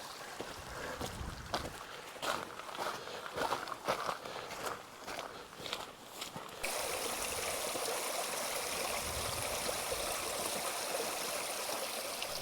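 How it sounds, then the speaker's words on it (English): Mountain stream trickling down toward a reservoir on a Mourne Mountains trail, a steady close wash of running water that becomes loud and continuous after the first few seconds, with footsteps crunching over it early on. "Could stay there for 10 minutes just listening to that trickle in."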